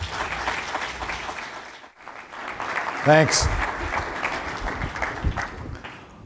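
An audience claps for a keynote speaker at a MobileMonday Toronto tech event, a warm burst of applause rising and tapering over several seconds, with a brief spoken thanks in the middle.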